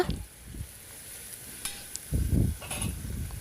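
A spoon stirs spices and ginger-garlic paste in a pan for mutton masala, with a soft sizzle underneath and a few scraping bursts of stirring, close and moderately quiet.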